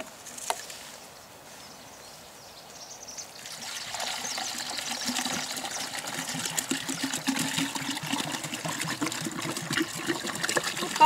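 Decis Profi insecticide solution is poured through the wide neck of a garden sprayer, starting as a faint trickle and swelling into a steady gurgling pour, fairly close and continuous.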